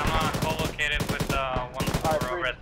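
A coaxial machine gun on an armored vehicle fires dense, rapid bursts in a video game battle over an airfield, loud and close and nearly continuous.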